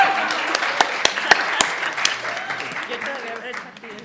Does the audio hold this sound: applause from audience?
yes